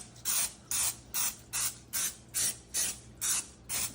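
A springform pan being greased with about eight short, evenly spaced hissing sprays heard close up, each burst about a quarter second long, with nothing else in between.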